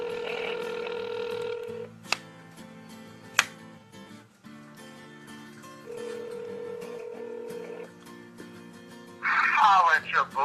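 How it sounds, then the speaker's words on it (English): Phone call ringing tone, repeated electronic ring bursts separated by pauses, heard clearly over low background music, with a brief burst of voice at the end. "So let's call Jordan, get him to do some funny shit"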